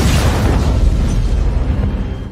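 A loud explosion goes off near a suspicious truck approached by a soldier and an interpreter in an action film, a dense roaring boom that fills the whole stretch and slowly tails off.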